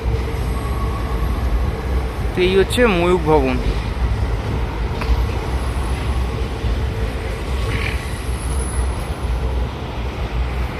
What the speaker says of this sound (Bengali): আর এই যে এখানে মেট্রো সার্ভিসও আছে, উপর দিয়ে মেট্রো চলে